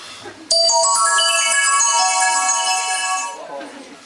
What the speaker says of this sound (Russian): возьми телефон. Это он, это он звонит.